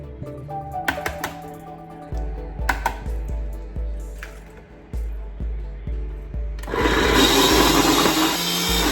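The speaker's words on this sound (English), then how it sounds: "So I'm going to go to the blender." A blender whirs loudly in the last couple of seconds, a dense roaring burst after quieter clattering and a steady low hum.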